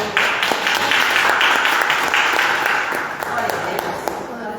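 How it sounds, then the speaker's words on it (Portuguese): A church congregation claps during worship, a lively bright patter of many hands that is strongest at first and thins out toward the end, with a voice speaking under it. "Querido, aplauda ao Senhor."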